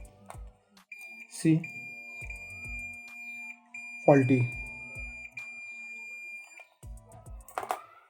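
A continuous high-pitched electronic beep from a multimeter sounds steadily for several seconds while someone talks and handles something nearby.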